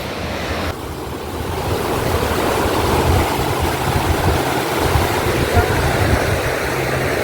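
Sea waves flooding the beach at Mandarmani roar continuously with heavy wind buffeting the microphone, a dense, unbroken wash of surf close by.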